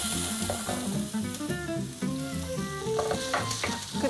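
Vegetables with onion stir-frying in olive oil, a continuous close sizzle with stirring and light clatter of a utensil in the pan throughout.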